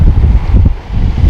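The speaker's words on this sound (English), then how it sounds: "If you hear wind, it's because it's windy" Loud, gusty seaside wind at Lyme Regis buffets the microphone in heavy low rumbling bursts, with no voices.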